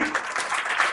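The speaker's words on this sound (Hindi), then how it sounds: "चलो तनिष के लिए सब तालियां बजाइए" An audience at a community kitchen-themed program claps for a young child, a brief, close burst of hand clapping mixed with murmuring voices.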